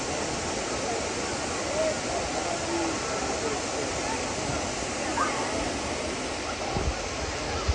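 A North Carolina waterfall amid fall colors roars in a steady, dense rush of falling water that holds evenly loud throughout, close and continuous.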